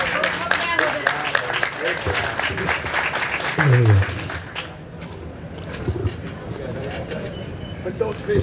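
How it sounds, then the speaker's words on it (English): Audience applause at a high school bass fishing championship weigh-in, a dense, fairly loud patter that fills the first half before thinning out, with a voice talking over it throughout. "We do hope you clap real loud for every single kid that weighs in fish today."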